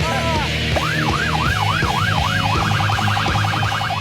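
An ambulance siren wails loudly nearby, sweeping up and down in a slow cycle before switching to a fast yelp, over rumbling traffic and engine noise.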